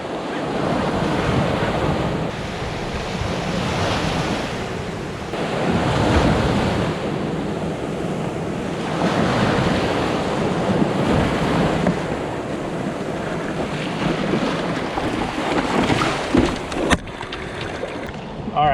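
Ocean surf breaking around a kayak at launch, loud rolling waves and heavy wind rumble on the microphone, with a sharp splash near the end as a wave comes over the bow.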